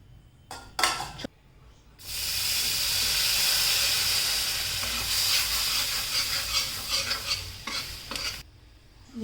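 Garlic tossed into hot butter in a pan, a few soft clatters, then a sudden, loud, hissing sizzle with stirring that holds steady for several seconds before fading and cutting off near the end.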